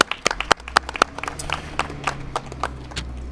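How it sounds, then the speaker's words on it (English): Scattered clapping from a small audience thanking first responders at a city opioid settlement announcement, a few sharp close claps at first then a lighter patter. "give them a round of applause and thank them for their efforts"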